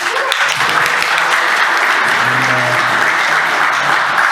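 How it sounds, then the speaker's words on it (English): An audience at a game developers' micro talks meetup applauds steadily, a dense even wash of clapping that holds at a constant loud level for several seconds with no voices over it. "So a round of applause for you guys."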